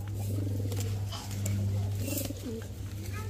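Pigeons kept for sale, including silver and patterned pairs, cooing in a low, repeated throaty warble from close by over a steady hum, with faint background noise.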